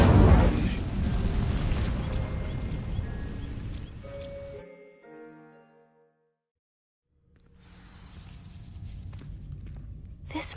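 An Incendio fire spell igniting dry vines in Hogwarts Legacy: a loud, roaring burst of flame and crackle that fades out into a short silence, then rising ambient rumble.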